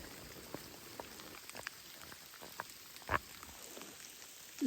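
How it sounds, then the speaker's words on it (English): Small hail falling in the West Elk Wilderness backcountry: sparse, irregular ticks and taps on nearby surfaces, quiet overall with a few sharper close hits standing out. "hang out in this little dry spot while it hails"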